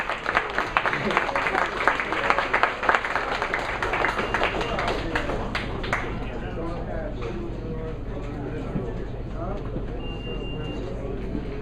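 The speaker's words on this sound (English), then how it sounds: "How about applause for Rich Gibson?" Applause from an audience at a song-and-art event rises loudly at first and thins into scattered clapping, with talk and room noise underneath.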